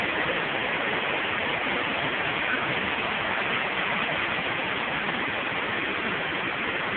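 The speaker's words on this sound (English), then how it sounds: "Waterfalls." Waterfalls pouring over rocks, a steady, dense roar of rushing water that stays even and continuous throughout.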